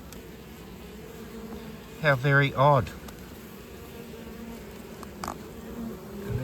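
Honeybees clustered in a ball at a hive give off a steady low buzzing throughout, with a brief louder swell of wing noise near the middle. A person speaks briefly over the buzzing.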